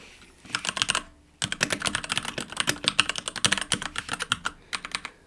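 Fast, close typing on a computer keyboard comes in irregular bursts of crisp key clicks, with a short pause near the start before the keystrokes resume and run steadily.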